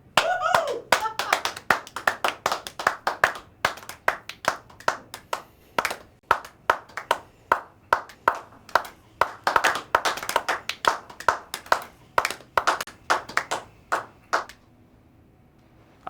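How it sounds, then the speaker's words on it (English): A radio show audience claps for a guest: a steady, rhythmic series of sharp, distinct hand claps, close and fairly loud, keeping an even beat before stopping abruptly near the end. "Everybody, please give a warm round of applause to the latest superstar of Radio Rolleston."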